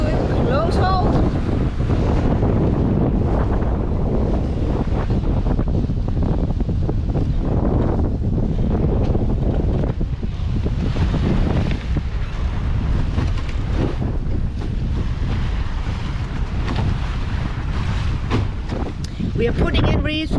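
Steady roar of wind on a sailboat close-hauled in 10 to 16 knots off the Brazilian coast between Salvador and Recife, buffeting the microphone continuously with water rush beneath, loud and unbroken throughout.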